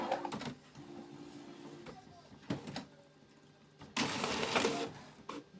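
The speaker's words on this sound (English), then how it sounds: "When you do aligning, then it prints, also makes copies." An HP OfficeJet Pro 8600 printer printing an alignment page, with intermittent mechanical whirs, clicks and a longer feed burst close by, separated by quieter pauses.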